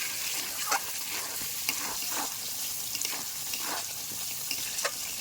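Spice paste, cooked down until the oil separates, fries in a pan with a constant bright sizzle, broken by occasional soft stirring scrapes, close and steady, with no talking.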